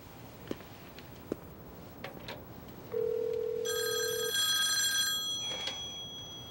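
A telephone ringing, an electronic trill that starts partway through and rings in a sustained burst for a couple of seconds, preceded by a few faint clicks and a short tone.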